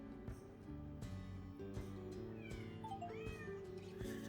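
Cat meows from the Hidden Cats in London video game, several short rising meow calls over a steady layer of game music with soft percussive ticks.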